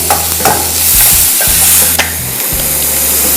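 Onions and green chillies frying in a hot pan, a steady close sizzle broken by a few scraping stirs of the spatula, with no voices over it.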